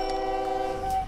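Electric-style train starting off in the railway simulation game OpenTTD, giving a steady, sustained tonal hum with a higher whistle-like note across the whole short moment, fairly close and alone with no talk.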